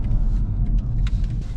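A 2020 BMW 530d xDrive accelerating hard, a steady low rumbling engine drone heard from inside the cabin, loud and continuous with no talk.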